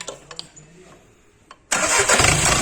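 A Volkswagen 1.6 CAY diesel engine with its EGR pipe removed cranks and catches, jumping into a loud, steady running roar after a quieter stretch of faint clicks and workshop noise.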